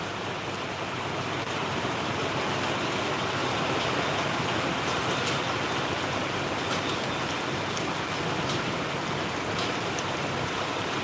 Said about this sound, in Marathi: पाऊस बघू शकता बघा भरपूर पाणी तुंबलेलं आहे कंपनीमध्ये